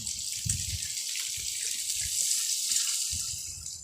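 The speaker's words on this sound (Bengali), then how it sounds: "এবার আমি এতে জলটা অ্যাড করব" Water poured from a cup into a pan of chicken curry with milk, a steady close splashing stream running the whole time alone, with faint low bubbling underneath.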